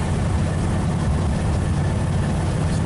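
A 1959 Ford Galaxie 500 with a carburetor needing a rebuild runs with a constant loud, rough low rumble, close and continuous, without talk.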